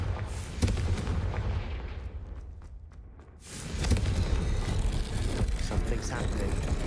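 The Confringo spell bursts in a Harry Potter video game as a loud, rumbling blast of noise, eases off briefly, then roars back into a sustained, heavy crackling roar.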